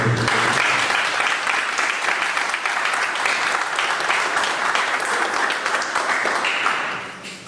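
Sustained audience applause after a lecture, dense clapping from a large crowd filling the room at steady loudness before tapering off at the end.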